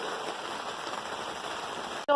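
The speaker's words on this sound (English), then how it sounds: "it started to rain more and harder" Rain falls steadily on a garden, a soft even patter with a constant hiss, ending in a brief abrupt break at the close.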